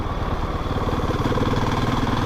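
Husqvarna 701 Supermoto single-cylinder motorcycle cruising at low speed in third gear, a steady close thumping engine drone with slight chugging and throttle variation, no voices.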